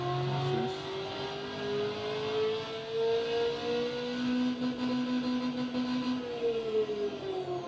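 A 1971 Ford Mustang engine revs on a dyno in the Automation car game, a loud, steady simulated engine note whose pitch climbs slowly, dips slightly, then climbs again without pause.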